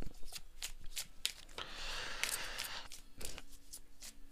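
Tarot cards being shuffled close up, a run of crisp riffling flutters broken by sharp taps as the deck is squared, with no talking.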